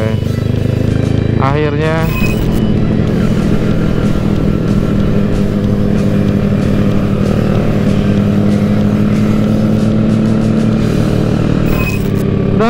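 A Supra 250cc motorcycle engine roars loudly and steadily throughout a test ride, with revs rising and gear shifts near the start and end, while a rider briefly speaks over the close, constant engine noise.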